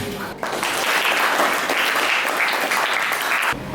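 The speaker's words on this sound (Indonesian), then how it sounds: "Bagus sekali untuk Avias, beri tepuk tangan." A classroom of students claps for a classmate, a brief burst of fairly dense applause that starts abruptly and cuts off sharply after a few seconds.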